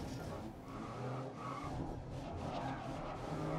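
A race car's tires lose grip and skid in the racing video game GRID, with engine noise and tire squeal running continuously while someone talks over it.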